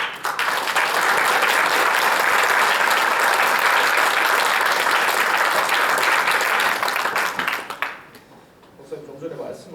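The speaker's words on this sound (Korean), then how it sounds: "우리 나오실 때 큰 박수 부탁드립니다" A church congregation breaks into big, sustained applause during a Sunday service, dense and loud for about eight seconds before dying away, with talk resuming at the end.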